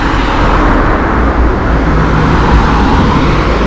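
Steady traffic on a busy road in Lazarevskoye, Sochi, loud and close, a continuous roar of cars passing without pause and no voices.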